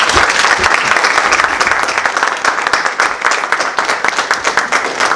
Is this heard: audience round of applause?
yes